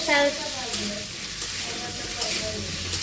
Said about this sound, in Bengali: ওল আর আলুটা একটু ভেজে নিচ্ছি ভেজে নিয়ে মশলা দেবো